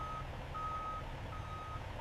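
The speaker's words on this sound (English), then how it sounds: "Massive trucks roll in" Large potato delivery trucks arriving at a factory, one reversing with repeated high electronic beeps in slow pulses over a steady low diesel engine rumble, fairly distant and muffled.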